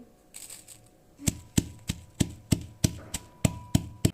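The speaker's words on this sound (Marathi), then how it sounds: "लसूण मिरची असं कुटून घ्यायचंय" Roasted garlic and green chillies pounded in a mortar, a steady series of sharp, close thuds, about ten evenly spaced strikes after a brief quiet start.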